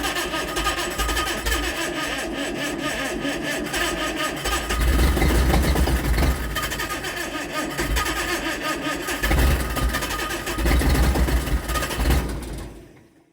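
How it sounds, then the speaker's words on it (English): A generator engine with a fuel delivery fault cranks and strains to start, a loud rough churning that surges in several bursts over a steady hum before cutting off, close to the microphone. "Finally managed to get the generator going."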